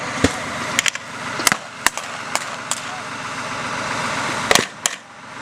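German field guns firing during a battle reenactment: several sharp, loud cracking reports at irregular intervals over a continuous engine-like rumble and background noise.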